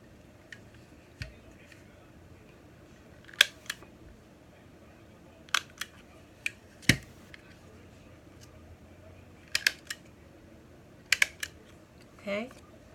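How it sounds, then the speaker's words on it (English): A handheld stapler fastening a Halloween biohazard label onto a treat bag: sharp, close mechanical clicks and snaps in scattered pairs and singles over several seconds, with quiet room noise between them and no speech. "so I decided to use my stapler"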